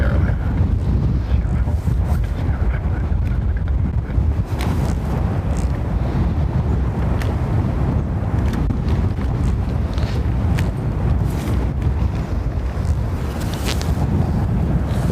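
Strong crosswind at Dublin Airport roars steadily across the microphone, a dense, unbroken rush of buffeting air with no letup and no voices.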